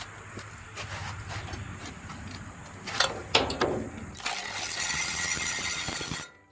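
A Ryobi P344 cordless ratchet removes a bolt on a Kubota D1105 diesel engine. Close, rapid clicking and a few sharp clanks give way to a steady motor whir that stops abruptly.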